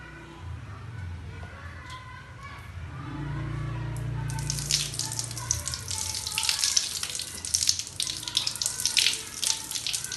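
Tap water runs and splashes into a sink as hands are rubbed under the stream, starting after a few seconds of low background rumble.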